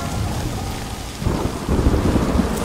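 Heavy rain pours down with rolling thunder in a theatre trailer, a dense steady roar that swells as a deep rumble builds toward the end, with no voices.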